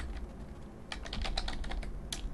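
Quick, irregular clicks of fingers typing on a computer keyboard, faint and close, a steady scatter of keystrokes with no talking.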